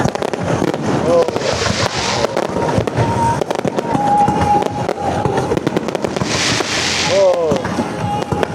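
A fireworks display over Vu Yen Island in Hai Phong, Vietnam, with loud continuous bursts and crackles, rising whistles and booming shells, while spectators close by exclaim and talk throughout.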